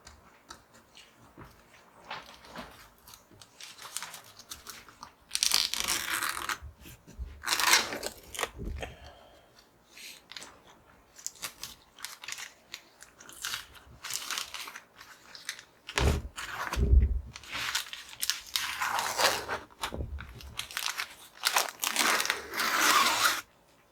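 Peel ply fabric torn away from cured epoxy in slow bursts of crackling, crinkling rips separated by quiet pauses, close up and without speech.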